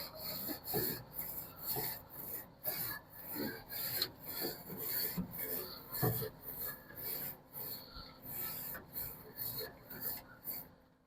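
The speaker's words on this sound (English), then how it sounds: "Give our grills a quick brush." A stainless steel bristle brush scrubs the grates of a heated pellet grill in quick back-and-forth strokes, producing a rhythmic, close-up rasping scrape that pulses unevenly.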